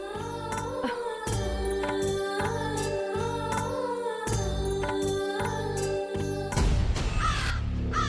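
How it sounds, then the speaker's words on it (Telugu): Crows caw loudly and repeatedly in sharp, rhythmic bursts, several birds calling close by, followed by a short burst of rougher noise at the end. "ఈ కాకులు చావా ఒకటే అల్లరి."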